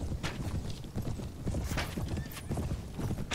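Horses gallop in a Mount & Blade video game battle, a dense, continuous drumming of many hooves at close range with scattered clanks and a faint whinny.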